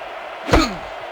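A single solid thump of a football kickoff in ESPN NFL 2K5 during a Chiefs versus Jaguars game, one loud close impact with a short decay over a quiet crowd bed.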